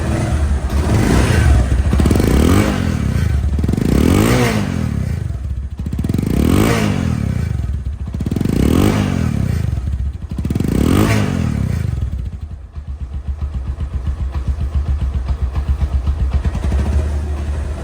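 A second-hand Bajaj Discover 135cc motorcycle engine revs hard five times in rhythmic bursts, then settles into a steady, rumbling idle.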